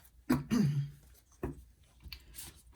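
A person gives a few throaty coughs close up, two quick ones followed by a single cough a moment later, in a quiet room.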